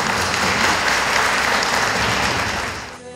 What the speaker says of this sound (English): Let them clap for you.